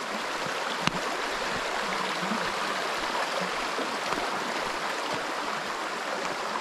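Creek water on a farm flows steadily nearby after a typhoon, a continuous even rushing and babbling with no voices.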